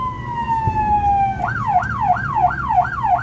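A fire engine siren sounds close in road traffic, a long descending wail shifting into a fast rising-and-falling yelp, loud and continuous over low engine rumble.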